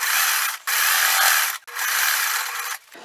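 A sewing machine stitches along the folded top edge of a fabric tote bag, about a quarter inch in, in two long steady whirring runs with short pauses between, loud and close with no talking.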